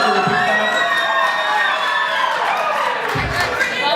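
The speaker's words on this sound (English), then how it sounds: "I could not hear you over how loud these people are cheering for me." A dense crowd cheers and whoops loudly and continuously at a convention, with shouting voices blending into a constant roar and a couple of thuds.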